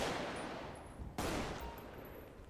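Rifle gunfire in GTA V during a zombie apocalypse fight, heard as a dense, steady roar of shots and noise with one sharp burst about midway, no voices over it.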